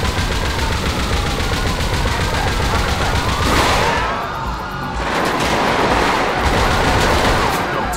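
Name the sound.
armored vehicle machine gun firing in video game GTA 5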